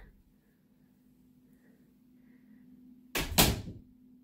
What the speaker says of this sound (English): pocket door into the bathroom